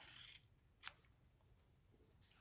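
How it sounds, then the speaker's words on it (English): Scissors snipping off a fabric seam allowance on a patchwork Christmas tree ornament, a few quiet, close cuts with a pause between them. "So now I'm going to cut a little seam allowance here and cut this part off."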